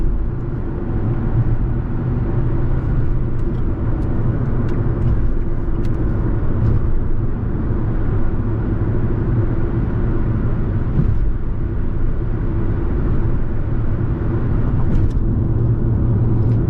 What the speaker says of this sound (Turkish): Valla şu an yol sesi baya baya alıyoruz. Yol sesi var tabii ki bu aracın. Lastik sesi de var dostlar.